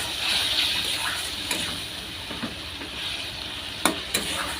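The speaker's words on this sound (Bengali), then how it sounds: "এবার এটাকে ভালো করে কষিয়ে নিতে হবে" Egg curry masala with turmeric sautéing in hot oil, a close, moderate sizzle with spoon stirring and a couple of sharp scrapes against the pan, no talking.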